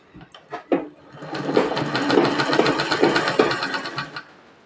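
A sewing machine stitches the neckline of a frock for a six-year-old girl, a close rapid whirring rattle that starts with a few short bursts, runs steadily for about three seconds, then stops.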